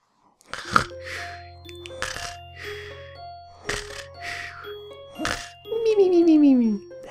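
A voice imitates sleeping noises in a series of breathy snoring and snorting sounds, each burst separated by short pauses, ending with a longer, drawn-out groaning whine that slides downward.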